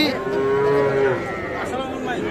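Cattle low loudly and close at a busy livestock market where young calves and bulls are being traded, one long moo standing out over a dense background of other animals and crowd noise.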